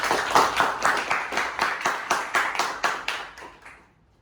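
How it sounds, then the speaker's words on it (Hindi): An audience claps in unison with a slow, even rhythm of about a dozen distinct claps that gradually soften and fade out. "तो जोरदार तालियां उसके लिए।"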